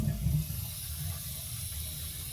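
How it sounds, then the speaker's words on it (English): Water rushes and gushes steadily, like a toilet flushing and the tank emptying, loud at first then settling into a continuous draining wash. "go ahead and flush the toilet and drain the water out of the tank"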